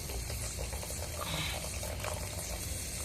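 Tamarind water poured into a simmering eggplant curry, a steady close splashing and bubbling liquid pour that runs throughout with no talk.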